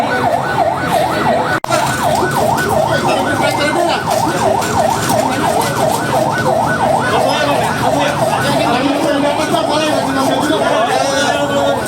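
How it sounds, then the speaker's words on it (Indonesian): Ambulance sirens wail with a fast, repeating up-and-down sweep at the site of a Jabodetabek commuter train crash at Bekasi Timur station. They sound loud and close over traffic noise, with people talking in the background. "Banyak ambulan belakang."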